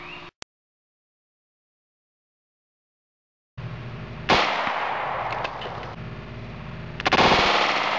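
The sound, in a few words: gunshot from Taurus PT-845 .45 ACP pistol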